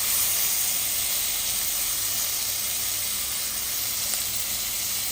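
Tomatoes fry in a hot pan with a steady, close sizzling hiss that holds evenly throughout, with no talking.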